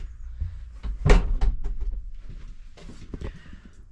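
Heavy solid wooden doors in a steam train carriage thud open and shut nearby, one firm knock standing out among softer creaks and bumps, in a quiet interior.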